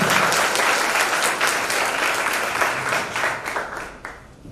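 Children applaud throughout a school badge ceremony in Kaushambi, a thick, continuous wash of clapping that gradually fades toward the end.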